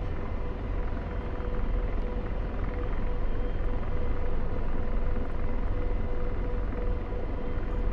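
An AH-64D Apache helicopter flying in the video game DCS World, a steady, loud rotor and engine rumble that continues without a break, with no talk.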